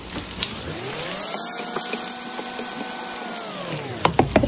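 Butter melting in a hot frying pan used for pork chops and mushrooms gives a steady, close sizzle and crackle, with a few sharp pops and clinks near the end.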